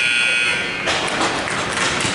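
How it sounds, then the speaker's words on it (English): A hockey arena buzzer marks the end of a period, a loud, sustained harsh drone that cuts in abruptly and fills the space amid echoing crowd noise. "And there's the buzzer."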